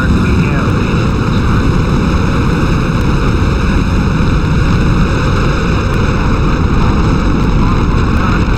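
STS-1 Space Shuttle main engines roaring at launch, a loud, dense, continuous broadband rumble that stays steady throughout with no breaks.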